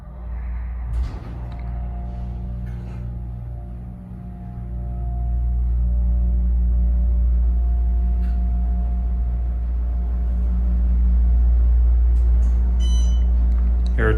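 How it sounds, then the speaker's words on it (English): An Otis Series 5 hydraulic elevator motor at Eastwood Mall in Niles, Ohio hums steadily and loudly, a low sustained drone with faint tonal whine that swells after a few seconds and holds, with brief clicks and beeps near the end. "let's hear the motor"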